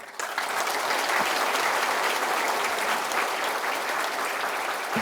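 A large audience at a Correctional Service Day ceremony honoring award recipients gives dense, loud, steady applause for about five seconds, with no voices rising above it.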